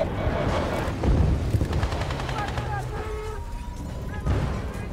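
Gunfire in the video game Battlefield Bad Company 2: dense, continuous rattling bursts under a steady battle rumble, with game radio chatter and voices mixed in throughout.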